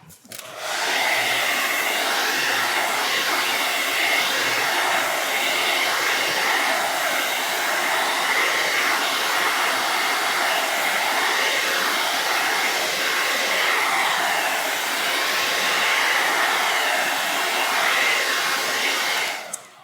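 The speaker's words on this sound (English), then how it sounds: "I use my blow dryer on hot." A blow dryer set on hot, used to dry stencil paint on diamond plate, runs as a loud, steady whoosh for about twenty seconds with no talk.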